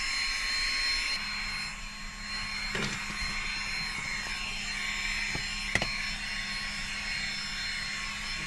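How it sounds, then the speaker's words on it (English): A vacuum cleaner runs steadily inside a van, a continuous motor whine and rushing air with a few faint knocks and clicks as the nozzle moves about. "Thanks for helping me vacuum, Stan."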